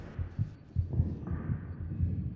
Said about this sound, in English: What's with the heartbeat?